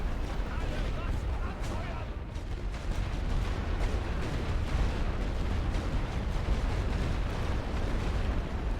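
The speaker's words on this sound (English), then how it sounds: "I can do a decent amount of damage with light artillery against machine gun nests." Light artillery fire booms and rumbles through a World War I trench battle in The Great War: Western Front, a dense continuous roar of blasts with a voice talking over it.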